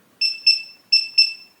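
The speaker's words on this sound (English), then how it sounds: "So you're going to hear a long beep and see a green flash here, meaning all user codes have been removed." A Defiant keypad door lock gives a run of four short, high electronic beeps in two quick pairs, loud and close.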